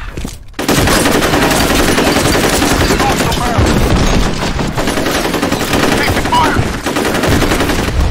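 Loud, sustained automatic gunfire in the video game FEAR Combat, rapid continuous bursts filling nearly the whole stretch after a brief quieter opening, with faint voices underneath.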